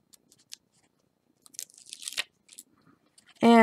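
Tape being peeled off the back of a stack of Post-it notes: a few small crinkles and ticks, then a close, crackling rip of tape pulling away, with a louder burst at the very end.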